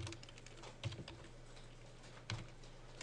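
Brisk typing on a computer keyboard, a continuous patter of soft keystrokes close by with a couple of heavier thumps, like the space bar or enter key, and no talking.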